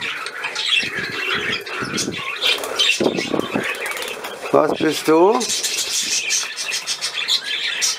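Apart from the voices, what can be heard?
budgerigar squawking and chirping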